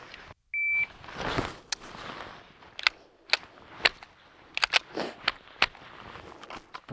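Several sharp pistol shots crack out in quick succession after a short shot-timer beep, with uneven gaps between the reports during a timed shooting drill.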